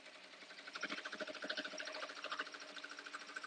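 Embroidery machine tracing an appliqué design outline, a soft, steady rapid mechanical whir with fast regular pulses, faint and continuous throughout.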